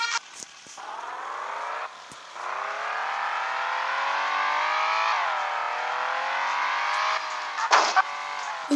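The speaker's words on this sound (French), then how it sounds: "ce son du moteur n'est pas ultra beau" Car engine in the Car Simulator video game revving steadily and loudly for several seconds, pitch rising and sliding, with brief cuts and a sharper burst near the end.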